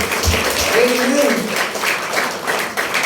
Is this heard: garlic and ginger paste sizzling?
no